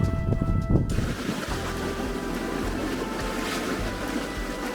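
A sailboat moves under sail with its motor off off the Eyre Peninsula, giving steady water wash and faint wind rush against the hull after a brief louder knock at the start, with no engine drone.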